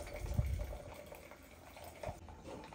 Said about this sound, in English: I'm just gonna pour it like halfway.